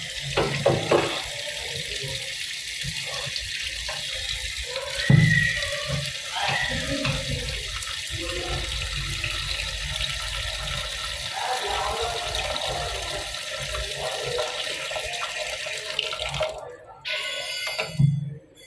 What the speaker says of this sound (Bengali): এরপর আলুতে জল দিয়ে নেবো